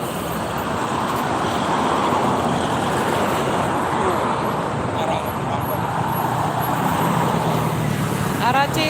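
Steady hum and rumble of slow-moving, jammed traffic on the toll road toward Jakarta, engines idling and rolling nearby, with a person talking over the continuous road noise.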